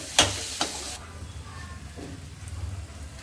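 Ground spices roast in a pan for besan gatte sabzi: chili powder, black pepper, cumin and coriander powder. After two quick clinks, a quiet, even sizzle continues close by.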